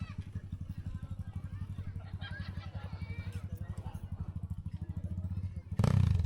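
Yamaha NMAX motor scooter engine idling close by on a morning breakfast ride in the Dona Remedios Trinidad hills, a steady rapid low putter throughout, with a louder burst at the end and people talking around it.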